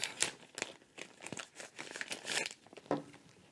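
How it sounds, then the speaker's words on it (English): A plastic bag around a newly unboxed Osmo crinkles and rustles up close in quick, irregular bursts, with brief tearing-like scrunches. "It's in a plastic bag, so we'll take that out."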